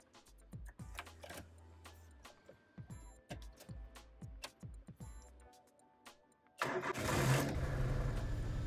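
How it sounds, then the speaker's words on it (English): A Daewoo Matiz with a Siemens ECU and an immobilizer emulator cranks with a rapid series of starter clicks, then catches and settles into a loud, steady idle close by. "Now you can start the car."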